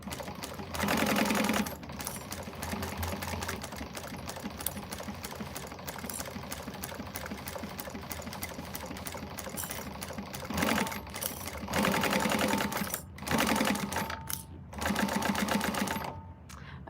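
A sewing machine stitches through vinyl on a quilted bag panel in rapid mechanical bursts, starting and stopping several times with quieter pauses between runs, close and clear, no voices.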